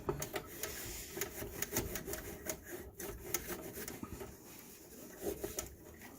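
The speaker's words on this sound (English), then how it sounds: "the edge of my nail a little bit, my fingernails, to kind of like get some of the little more stubborn stuff off" Fingernail scraping stubborn grease off the lid of a Ninja Foodi, a dense run of close, rapid scratchy rasps and rubbing strokes that carries on steadily throughout.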